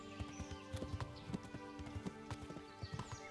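Horse hooves clatter in a quick galloping rhythm in the medieval game Kingdom Come: Deliverance, with a white horse carrying the rider along a path. Steady clip-clop beats sit over faint ambient tones, moderately quiet.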